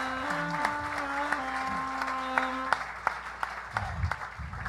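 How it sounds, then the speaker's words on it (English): Crowd applause following a comedy set at a live comedy podcast taping, a fairly faint, continuous patter of clapping with scattered sharper claps and some voices underneath. "You got a big applause break there."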